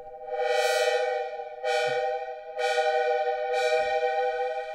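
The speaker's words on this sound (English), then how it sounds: "Let's switch on our reverb." A bright SynthMaster 2 synthesizer tone sounds in four repeated bursts, each bloom of sound swelling and hanging in a long, washy reverb tail.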